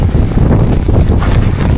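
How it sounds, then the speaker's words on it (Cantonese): Powerful wind roars and buffets the microphone in a loud, unbroken rush. "哇！ 好大風，好大風！"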